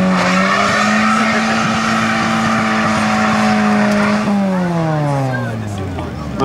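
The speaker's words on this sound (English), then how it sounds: "Andrew Todd and the Subaru powered Buggy up against Luke McGregor" A Subaru-powered buggy drag racing at Gunnedah, its engine holding a loud, steady high-revving note before the pitch drops sharply as it shifts and then fades; a commentator's voice runs over it.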